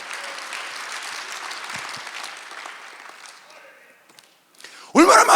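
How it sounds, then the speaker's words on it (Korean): A church congregation applauds during a Sunday worship service, steady clapping that gradually thins and fades, followed by a brief pause and a sudden loud burst at the end. "박수 한번 하세요."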